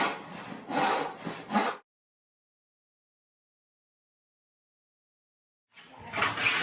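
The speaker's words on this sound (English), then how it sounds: "you slowly work the plane back more and more and more, eventually until you're taking full length shavings" A hand plane takes long shavings off a wooden board in several quick rasping strokes, then falls silent for a few seconds before another close stroke begins.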